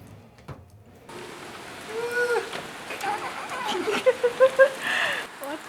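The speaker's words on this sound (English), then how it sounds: "What the heck? It was not supposed to rain." Rain falls outdoors on a backyard smoker set to 200 degrees while pulled pork smokes, a steady broadband patter that grows louder partway through, with a few sharper drips and people talking nearby.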